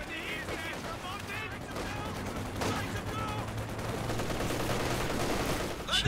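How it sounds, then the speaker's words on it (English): Machine gun fire and battle noise from the World War II strategy game Company of Heroes 2 rattle faintly and continuously beneath a commentator's voice. "Machine gun setting up."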